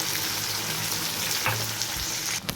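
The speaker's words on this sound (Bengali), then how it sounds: "এই আলু ভাজছি" Steady crackling sizzle of potatoes frying in a pan, with a brief scrape of stirring near the end.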